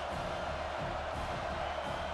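A college football stadium crowd at Auburn roars in a steady, dense wall of cheering and noise, close and loud without letup.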